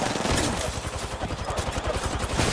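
Rapid cracks of Kraber sniper rifle shots and other weapon fire in a video game, a quick string of sharp bursts packed closely together and loud throughout.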